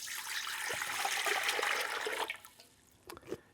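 About 2.5 liters of water poured into a pan for spicing frozen crayfish, a gushing splashing stream for a couple of seconds, then quieter trickles and drips, close and alone.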